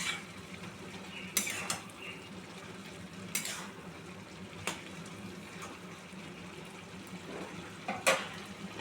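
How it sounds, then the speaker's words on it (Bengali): Bottle gourd and potato simmering in their own water in a pan, stirred with a spoon that makes occasional scraping clinks against the metal over a low bubbling sizzle, quiet and close. "এবারে দেখো আমি এবারে ঢাকনাটা খুলে এবারে লাউটা একটুখানি নাড়িয়ে দেবো।"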